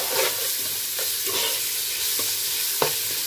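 Garlic, green chili and chopped onions are stirred in a hot pan as they fry. A continuous close sizzle runs under repeated scraping stir strokes, with no speech.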